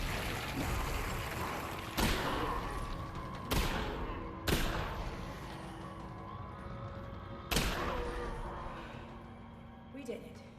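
Shotgun blasts in Half-Life: Alyx ring out in four loud, well-spaced booms over a steady background, each leaving a short decaying tail.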